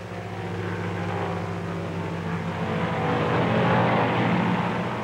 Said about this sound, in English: He flies low and fast for two or three miles past his objective